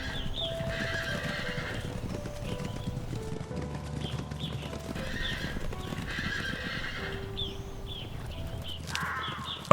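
Przewalski's horses on the Mongolian steppe, with repeated whinnies and neighs over a steady clip-clop of hooves, birds cawing in the background and no speech.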